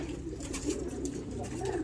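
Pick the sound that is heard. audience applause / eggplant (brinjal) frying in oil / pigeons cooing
pigeons cooing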